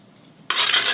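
A jackfruit mixture is stirred in a bronze uruli pot, with silence giving way to a bright, scraping, metallic rasp that starts suddenly and keeps going loud and close.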